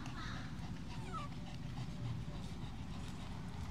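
A dog whimpers and yips with thin, high whines that rise and fall against a busy, noisy background. People can be heard talking nearby.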